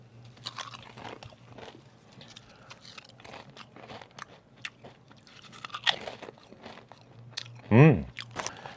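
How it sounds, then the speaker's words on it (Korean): Close, crisp crunching and chewing of Korean Poca Chip potato chips, repeated bites through the stretch with one loud crunch near the end and faint room noise between. "일반 포카칩부터 먹어볼게요"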